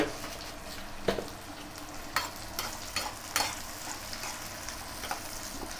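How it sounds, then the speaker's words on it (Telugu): Onions with cumin seeds fry in oil in a home kitchen, giving a steady sizzle broken by several sharp scrapes and clinks as a spoon stirs them. "ఇప్పుడు ఈ ఉల్లిగడ్డ ఎర్రగా బ్రౌన్ కలర్ రావాలి, అప్పుడు దాకా వేయించుకుందాం, ఫ్రై చేసుకుందాం"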